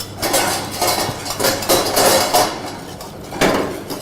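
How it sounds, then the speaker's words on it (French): Hazelnuts and almonds being gently stirred in a pan, giving repeated scraping and light rattling strokes of metal against metal at an even pace, close and fairly loud, with no talking. "Allez, je remue gentiment."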